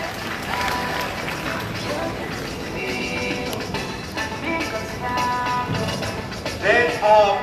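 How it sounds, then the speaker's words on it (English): Applause and crowd noise at a university town hall at Obafemi Awolowo University, a dense clatter of clapping mixed with murmuring voices that swells toward the end, with some tonal chatter or whistling near the close. "It's a round of applause for him."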